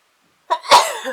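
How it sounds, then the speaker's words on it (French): A single sharp sneeze, close and loud, with a quick intake before the burst and then silence. "Je vais éternuer."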